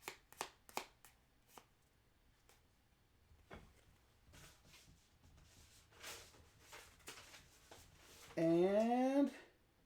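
Cards being drawn and handled while playing the Blazon board game: soft taps, slides and shuffling clicks scattered across the table, followed by a short burst of a voice near the end.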